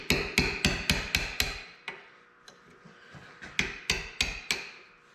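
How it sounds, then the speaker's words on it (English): A small hammer strikes a metal punch held in a vise to drive out a piece of line, a fast run of sharp close metallic taps, a pause with scattered knocks, then another quick burst. "I'm going to take a small punch and a small hammer."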